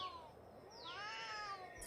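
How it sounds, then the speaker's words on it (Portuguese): A cat gives a single drawn-out meow that rises and then falls, close by and fairly quiet, with no talking over it. "que miados são esses aqui nesse bar do seu Juca"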